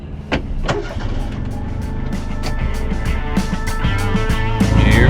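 Kubota RTV 500 side-by-side utility vehicle pulling away, its engine building steadily from a low idle as it drives off, close by with clicks and rattles over the motor.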